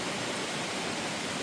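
Cascade Falls in Virginia's Jefferson National Forest, a steady broadband rush of falling water and stream flow, constant and even with no pauses.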